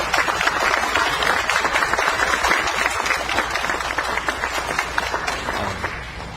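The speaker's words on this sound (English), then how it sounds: "we want to give them all a round of applause right now." An audience at a county address by the Hawaii Island mayor breaks into sustained applause, a dense, loud wash of clapping that holds steady and tapers slightly toward the end.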